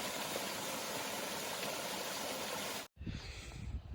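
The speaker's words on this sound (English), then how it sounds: "Nice little waterfall." Small waterfall beside an Appalachian Trail path in Vermont, giving a steady, full rushing wash of falling water close by that cuts out abruptly near the end before a quieter, rougher water sound resumes.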